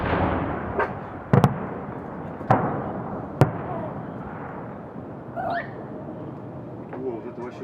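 Victory Day fireworks salute in Kaluga, with several sharp distant bangs spread across a low rumbling outdoor background and faint voices nearby.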